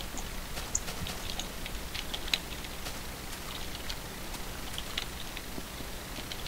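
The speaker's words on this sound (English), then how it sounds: "Is it raining over there, or is that just, like, fuzz?" Steady rain from the video game Minecraft, a soft continuous hiss of falling drops with faint patter, filling the background evenly throughout.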